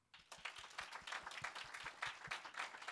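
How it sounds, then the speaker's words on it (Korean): A small church youth service congregation claps steadily for a few seconds, applause rising quickly and holding at moderate volume, with no one speaking. "우리 천상원 전사님 박수 한번 드릴까요?"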